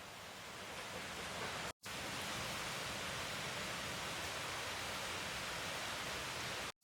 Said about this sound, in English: you can hear that water coming out of the mountains. It's pretty powerful